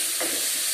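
Onions and tomatoes frying in a pan for curry give a steady, close, loud sizzle with bright hiss and a brief stir near the start.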